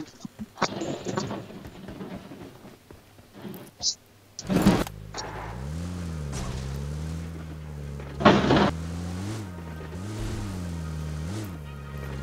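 A car in PUBG starts with a few sharp clunks, then its engine settles into a loud, steady drone that revs up and down in waves, with voices talking over it.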